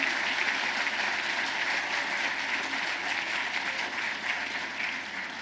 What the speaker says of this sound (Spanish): hay que darles un fuerte aplauso